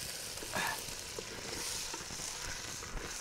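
Tomato pieces get stirred into ginger garlic paste frying in a pot at a winter forest campsite, a soft, fairly faint sizzle broken by a few scraping stir strokes.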